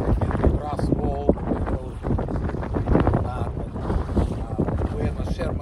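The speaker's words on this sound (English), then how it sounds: "it's very windy" Strong wind on Sherman Lake in the Delta buffets the microphone in a steady low rumble, with someone talking throughout over the gusts.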